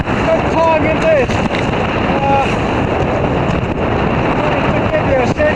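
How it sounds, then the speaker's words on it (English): Strong wind of about 35 knots buffets a sailing boat, a loud continuous roar across the microphone with faint whistling tones, while someone talks over it. "Some real wind is swinging around"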